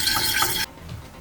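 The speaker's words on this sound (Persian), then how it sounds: "به شیر گرممون که ژلاتین رو توش اضافه کرده بودیم 1 قاشق هم عسل اضافه میکنیم و 1 قاشق پرتر عسل اضافه میکنیم و همچنان هم میزنیم" A spoon stirs warm milk mixed with gelatin and honey, making a close, steady swishing scrape for about half a second before it cuts off into quiet.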